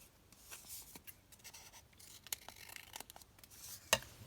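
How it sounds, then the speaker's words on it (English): Scissors trimming the edge of a paper card in a crafting session: a run of faint, scattered snips and rustles, with one sharper cut near the end and no talking. "And I'm just going to trim it down a bit here at the edge."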